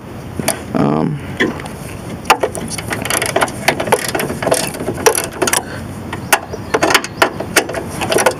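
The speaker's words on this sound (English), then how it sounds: "Just gotta take this bolt out. This is a, I'm using a 7mm." A ratchet with a 7mm socket works a negative battery cable bolt on a 1988 Ford Bronco II, clicking in quick irregular bursts up close, with someone talking briefly near the start.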